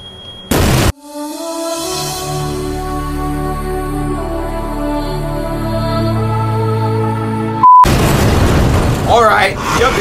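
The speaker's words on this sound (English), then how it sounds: "It's gonna explode. You hear it?" A single explosion bursts out in the Resident Evil 2 video game, a loud booming hit after a brief blast at the start, with sustained tonal game audio, a sharp click, then a dense rushing roar.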